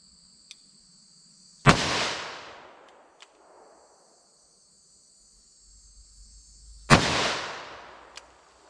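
Two loud .357 Magnum revolver shots from a 4-inch barrel firing Hornady Critical Duty loads, each a sharp crack with a decaying outdoor tail, spaced about five seconds apart, with crickets chirping steadily in the background.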